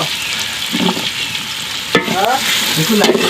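Onions frying in a pan for an Odia home-cooked fish curry meal, a steady close sizzle with a few scraping stirs and clinks of a spatula, no talk.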